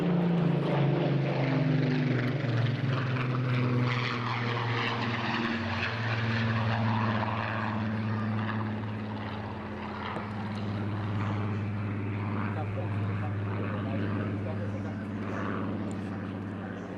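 A Spitfire PR XIX with a Griffon engine roars past in a flying display at Eastbourne Airshow, a loud sustained propeller drone that shifts in pitch as it passes, with an announcer talking over it.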